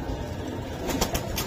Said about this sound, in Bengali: বিশাল সাইজের, বিশাল বড় কবুতর।